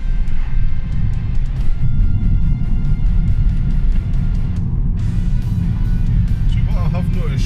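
A car fitted with a Race Chip RS tuning box drives in race mode, its engine droning steadily and close from inside the cabin, with road rumble throughout and no clear revving peaks.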